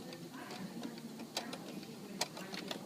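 A sewing machine back stitches the start of a mitered quilt binding through bulky layers, heard as quiet, uneven ticking and clicking up close with a few sharper knocks.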